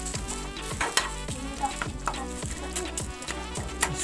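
Freshly ground ginger sizzles and fries in a hot pan, a steady crackling hiss broken by irregular scraping and stirring clatter, close and continuous throughout.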